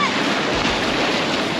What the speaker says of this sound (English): These waves keep coming and they keep...